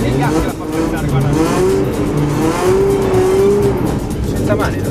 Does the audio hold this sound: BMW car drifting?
yes